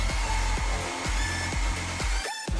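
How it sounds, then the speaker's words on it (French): A hair dryer blows loudly and steadily while hair is curled around a round brush, with repeated low thumps and pitch sweeps as the airflow shifts, and a brief dip near the end. "Pour la source de chaleur, on va se servir du sèche-cheveux."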